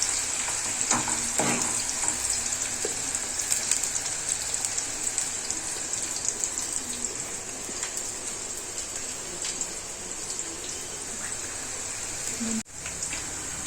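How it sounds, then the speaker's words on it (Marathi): Onion frying in a pan for a Nagpuri Saoji patawadi gravy, a steady dense sizzle that runs loud and continuous throughout, with a few faint stirring clinks near the start and a brief dip near the end. "आता कांद्याला पण थोडं ब्राऊन होऊ द्यायचं आहे."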